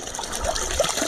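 Water gushing from the outlet of a solar submersible pump irrigating a two-hectare calamansi farm, a steady, fairly loud rushing flow that runs continuously throughout.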